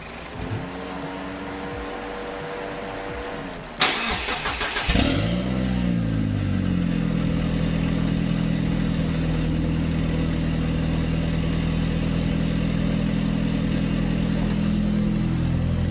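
A turbocharged JDM Mitsubishi 4G63 engine is cranked and catches, flaring briefly before settling into a loud, steady idle close by, with an earlier engine droning beforehand.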